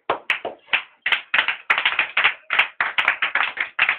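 A church congregation claps rhythmically in acclamation of Jesus Christ, with crisp, close, steady claps and no talking.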